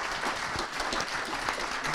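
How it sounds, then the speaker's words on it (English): A conference audience applauds its panelists at the close of a session, a dense, steady wash of many hands clapping at once, sustained evenly for the whole stretch with no voices over it. "Can they get a round of applause?"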